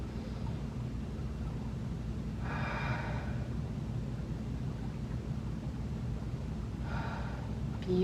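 Two slow, audible breaths during a seated chair yoga groin and inner-thigh stretch, each a soft airy exhale several seconds apart over a steady low hum.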